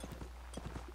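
Horse hooves clip-clop in the Napoleonic Wars mod of Mount and Blade, a quick, faint run of hoof clops in a rapid galloping rhythm over a low background hum.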